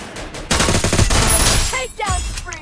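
Rapid automatic gunfire bursts loudly in a battle royale ranked match, a dense rattling volley followed by a few more shots, with a voice briefly heard near the end.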